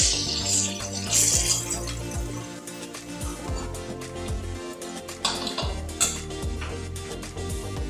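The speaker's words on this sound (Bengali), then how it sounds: "এই সব পিসগুলো এবার এক এক করে কড়াই থেকে তুলে নিচ্ছি।" Fried chital fish pieces being lifted one by one from a wok, with soft metallic scrapes and clinks against a steady background of oil noise, close and moderately loud.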